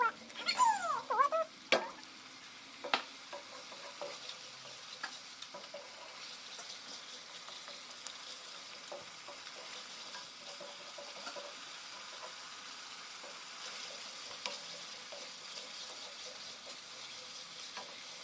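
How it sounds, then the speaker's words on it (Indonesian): Spice paste with lemongrass, galangal and candlenut sautés in a pan for beef rendang, giving a quiet, steady sizzle with a few clattering stirs near the start. "Tumis semua bumbunya sampai benar-benar matang, sampai harum"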